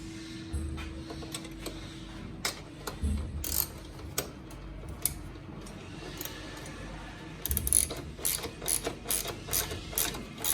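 Ratchet wrench with 10mm and 13mm sockets tightening nuts and bolts while fitting pannier racks to a Honda CRF300 Rally motorcycle, heard as bursts of quick clicking and mechanical rattles at close range, with no talk.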